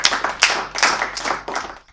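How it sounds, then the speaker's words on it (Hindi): Loud applause from the audience at a Hindi comic poetry gathering, with several surges of dense clapping that fade out toward the end. "भाई जगजीवन जी, जोरदार तालियां करिए"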